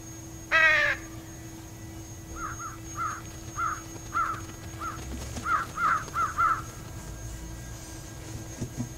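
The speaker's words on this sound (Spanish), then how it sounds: "Muy bien, ya están los cuervos." Crows caw in the video game Trüberbrook, summoned with a whistle: one loud harsh call opens, then a run of shorter, fainter caws comes in quick irregular bursts over a quiet ambient hum.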